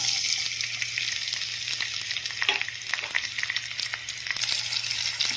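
Green chillies and onion fry in hot oil for a curry, producing a dense, continuous close sizzle with occasional sharp stirring clicks and no talk.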